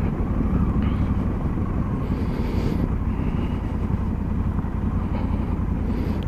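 Honda Africa Twin motorcycle riding on gravel, a steady loud engine drone with constant road and wind rumble throughout, close and uninterrupted.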